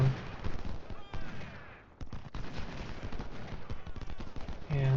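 Musket volleys from Civil War infantry at Chancellorsville in a strategy game, a dense, continuous crackle of overlapping gunshots with brief lulls, steady and mid-distance throughout.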